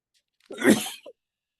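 A single sharp human sneeze, close and fairly loud, with a brief breathy tail, alone against silence.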